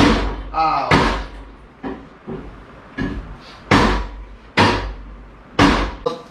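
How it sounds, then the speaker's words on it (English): Repeated hammer blows while adjusting car coilovers, about a dozen sharp metallic knocks in an irregular rhythm, loud and near, with a short spoken exclamation among them. "is that why you're hammering it?"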